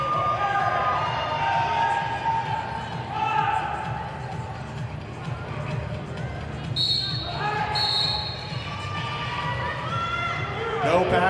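Roller derby bout crowd at a Junction City Roller Dolls game cheering as a jammer skates, a continuous mid-level hall roar under an announcer's voice, with brief sharp whistle-like bursts partway through.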